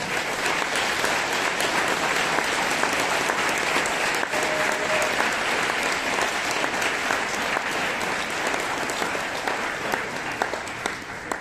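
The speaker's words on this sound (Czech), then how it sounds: "jestli byste přivítali potleskem" Steady, dense applause from a large lecture audience, sustained at an even level throughout without pause.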